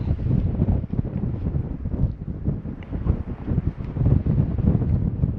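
Strong desert wind buffets the microphone in a loud, continuous roar with gusty surges, heard on a dirt-trail trip beside a 21-year-old Honda motorcycle, with no voices.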